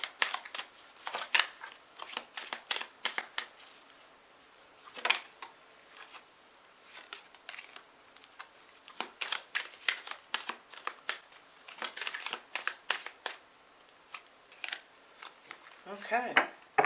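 Tarot cards shuffled by hand in repeated crisp riffling bursts with short pauses between, close and fairly quiet, ending in a few soft taps as the deck settles.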